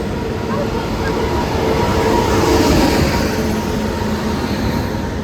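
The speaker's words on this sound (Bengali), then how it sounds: "আমাদের ট্রেন এই যে ঢুকছে" Train pulling into Coalfield station platform, a broad steady rumble of wheels and carriages rolling in close by, with crowd murmur and voices on the platform throughout.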